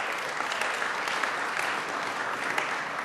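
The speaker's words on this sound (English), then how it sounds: "if we can give a round of applause for my deputy CAO for public safety, Barry Stanton, who's done a great job." Audience applause at a county public safety press conference, a steady dense wash of clapping throughout, moderately close, with no voices standing out.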